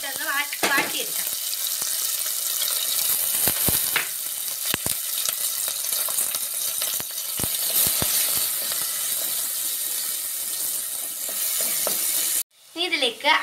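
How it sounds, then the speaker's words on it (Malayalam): Ginger, green chilies and garlic sauté in a pan for a fish moli, giving a steady, close sizzle throughout with occasional sharp stirring scrapes, before the sound cuts off abruptly near the end. "ഇനി നമുക്കിതിലേക്ക് ഇഞ്ചിയും പച്ചമുളകും വെളുത്തുള്ളിയും ഇട്ടൊന്ന് വാട്ടിയെടുക്കാം"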